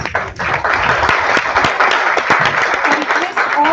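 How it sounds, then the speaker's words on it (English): Audience applause welcoming guests at a conference inauguration ceremony, loud continuous clapping from a crowd filling the hall with voices mixed in. "Please rise and welcome with a round of applause."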